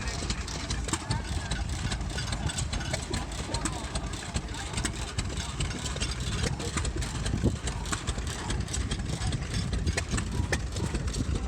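Antique small stationary engines, including a 1907 three-horsepower model, chug and idle at an outdoor flywheelers show, a steady rhythmic knocking and clatter under crowd murmur and nearby talk.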